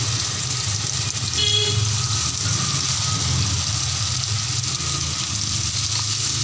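Tomato frying with cumin, ginger and garlic paste in a pan, giving a steady, even sizzle that continues without pause at moderate loudness.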